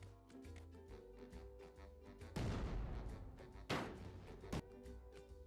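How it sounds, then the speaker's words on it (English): A cannon in a video game fires three times, each a loud booming blast standing out over steady game music, the first and loudest followed by a rumbling decay, the last shortest. "Okay, just a cannon."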